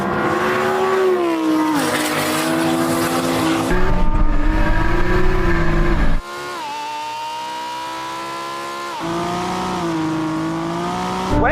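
Race cars in a drag race launch and accelerate hard, loud engines roaring and revving up through several gear changes with tire squeal, one car's launch marred by clutch slip, no talking.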